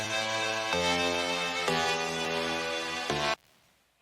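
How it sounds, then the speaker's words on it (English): Sustained synth chords from a Serum preset for a slap house / Brazilian bass track, playing four chord changes in a rich harmonic stack, loud and alone, then cutting off abruptly into near silence. "we have some basic chords that sound like this"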